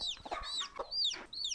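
High, thin peeping calls from a chick mixed with a hen's lower clucks, close by and repeated in quick bursts, at an animal sanctuary in Thailand.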